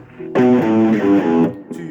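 A short, loud electric guitar riff with heavy distortion, a few gritty notes played close and alone.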